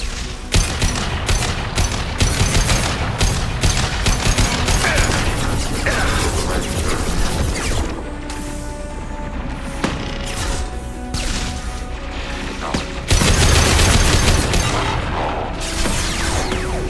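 A hacked turret fires in Mass Effect 2, loud sustained bursts of automatic gunfire with mechanical clatter and crashing impacts, pausing briefly midway before an even louder burst, under a repeating synthetic alert voice.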